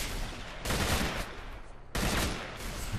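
Heavy shotgun blasts in S.T.A.L.K.E.R. Call of Pripyat with the SGM mod, two loud broadband bursts with a lingering rumbling tail and no talk.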